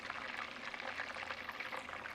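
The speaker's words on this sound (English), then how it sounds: "here we are deep frying" Chicken being deep fried in hot oil during a cooking demonstration, a faint steady bubbling sizzle with soft crackling throughout the short stretch, no talking.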